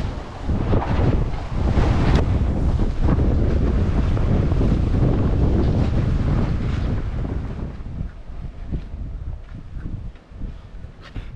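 Wind and breaking waves around a small Welsford Pathfinder sailing boat, loud, steady rushing with wind buffeting the microphone throughout, easing slightly toward the end; no talk.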